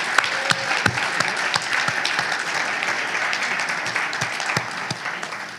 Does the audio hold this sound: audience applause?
yes